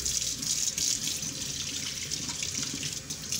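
A kitchen tap runs steadily at close range as bottles are washed in cold water with dish detergent, an unbroken splashing stream with no voices.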